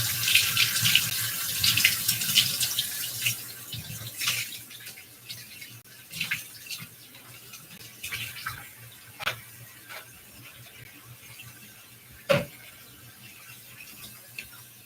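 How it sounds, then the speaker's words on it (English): Tap water runs steadily into a sink as snack molds are rinsed, with clinks and knocks of the molds against the basin scattered through the continuous splashing flow. "So I'm going to give them a quick rinse to wash off any dust."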